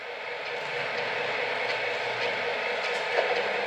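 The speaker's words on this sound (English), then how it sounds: "we are going to fire this thing up, get it coupled up to a freight train, and run it around" An O gauge Williams custom Southern Pacific SD40-2 model locomotive with QSI sound runs with a freight train, giving a steady, continuous mechanical rumble and hiss at even loudness with no talk.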